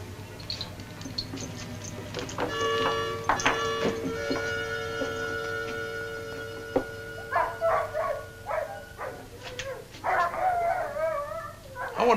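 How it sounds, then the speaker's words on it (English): Sled dogs howling in a chorus of long, wavering, overlapping howls that rise in pitch, with yips and short barks breaking in toward the end, close and fairly loud. "I wonder what's bothering those dogs."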